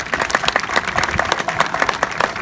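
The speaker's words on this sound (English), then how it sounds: "Please acknowledge them with a round of applause." An audience at a healthcare university building dedication applauds the contributors, a steady wash of many hands clapping close by throughout, with a faint voice briefly underneath.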